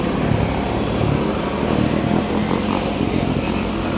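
A tuned motorcycle engine from an underbone racing class runs close and loud, a continuous dense drone with small surges in intensity and no pauses.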